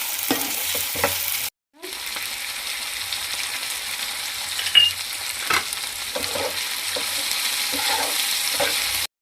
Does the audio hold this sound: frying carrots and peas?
yes